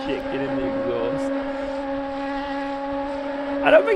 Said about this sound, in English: When it's like now, it just sounds like a wasp hive, you know?